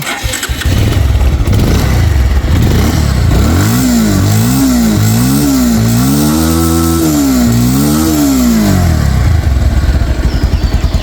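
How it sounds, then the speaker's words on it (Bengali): A 2022 Bajaj Pulsar 150cc ABS motorcycle engine cranks and catches, then idles and revs in repeated rising and falling bursts, loud and close throughout. "বাইকটা স্টার্ট করে সাউন্ড কন্ডিশন দেখাবো"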